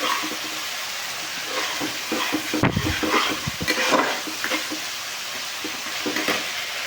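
Masala for spicy egg curry being stir-fried in oil, a continuous sizzle with scraping spatula strokes and a louder clatter of stirring against the pan, close and steady without speech.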